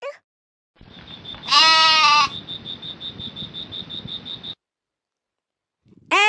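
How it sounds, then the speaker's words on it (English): A goat bleats once in a loud, drawn-out, wavering cry. A steady high-pitched beeping tone runs alongside it and continues for a couple of seconds after the bleat ends. "G for goat."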